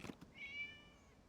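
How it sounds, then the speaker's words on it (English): A single short cat meow in the Genshin Impact video game, faint and thin, following a brief soft knock, otherwise quiet. "It was just a cat."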